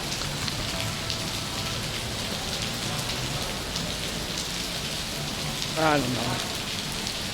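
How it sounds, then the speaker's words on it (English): Heavy rain pours down steadily during a holiday in Montenegro, a dense, constant hiss of drops on surfaces close by, with a person briefly speaking over it near the end. "It's raining."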